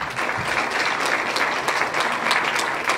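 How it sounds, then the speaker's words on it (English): A crowd at a business awards event applauds steadily, many hands clapping together in a dense, sustained burst from a medium distance. "I'd like to have one more round of applause for our sponsors"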